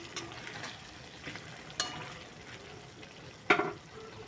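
Food is stirred and mixed in a frying pan while cooking lacha paratha, giving a soft continuous sizzle with a few sharp scraping clinks of a spatula against the pan.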